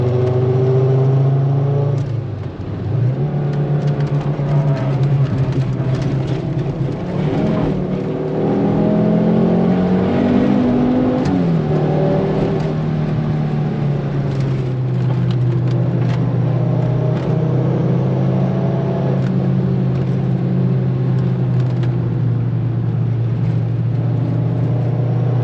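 A track-modified 450HP Volvo 850 T-5 circles a racetrack, its engine droning steadily with pitch rising and falling through gear changes and revs, loud and close from inside the car.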